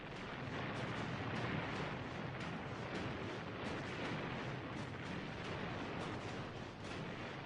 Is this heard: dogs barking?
no